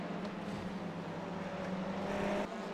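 Loud, steady engine drone from a Hyundai TCC touring race car in the iRacing simulator at Watkins Glen, holding a sustained pitch throughout with a brief dip near the end, no talk over it.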